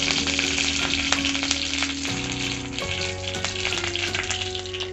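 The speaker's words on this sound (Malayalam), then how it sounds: "അതിലേക്ക് കടുക് ചേർത്ത് കൊടുക്കാം. കറിവേപ്പില ഇട്ട് കൊടുക്കാം." Fenugreek, mustard seeds and curry leaves crackle and sizzle in hot oil, a steady close frying hiss broken by sharp pops, with no voices.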